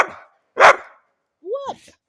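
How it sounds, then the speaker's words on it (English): An excited dog on a walk lets out a few separate loud barks with silent gaps between them, the last one a rising yelp-like bark, close to the listener. "Dad's teaching you to bark loud."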